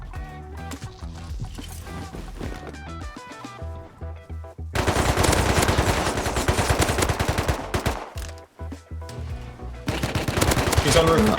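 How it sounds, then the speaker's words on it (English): Rapid automatic turret fire in an online clan-raiding video game, long sustained bursts of loud gunshots with brief pauses between volleys, dense and close. "he's getting killed by the turret"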